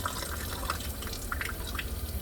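Water drips and trickles from hands held over a sink during surgical aseptic handwashing, a faint, steady run of small splashes with no talk.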